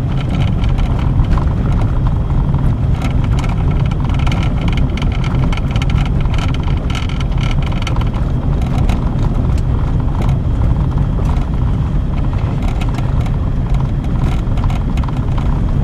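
A car drives over a bumpy road on a day road trip, with a loud, steady rumble of engine and road noise and a dense rattle of jolts throughout, with no talk.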